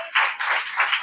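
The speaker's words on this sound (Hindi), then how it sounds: "मरियम मगदलिनी के लिए भी जोरदार ताली बजा दो।" Congregation clapping loudly during an Easter sermon in a Hindi-speaking church, a brief burst of dense applause that swells and pulses for about a second.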